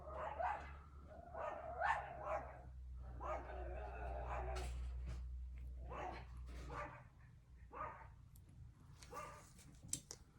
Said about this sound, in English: Somebody just delivered something from Amazon. The dogs are going nuts.